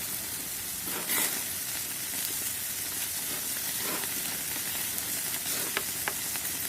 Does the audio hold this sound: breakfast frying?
yes